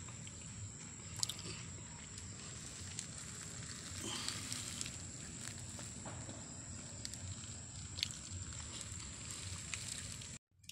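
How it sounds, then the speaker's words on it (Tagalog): Meat with floating fat boils in a pot over an outdoor wood fire, giving a steady, faint bubbling hiss and crackle that runs unbroken, with a few small pops and no talking. "kumukulo na oh"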